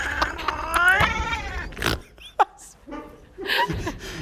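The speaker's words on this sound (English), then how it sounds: "My favorite cat in the world." A cat meows loudly and repeatedly in drawn-out, wailing caterwauls, close by, with a person's voice briefly chiming in between the cries.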